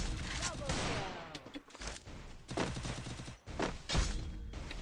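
Gunfire in a shooting video game, a dense barrage of sharp shots and heavy thuds in irregular bursts, loud and close, with voices mixed in.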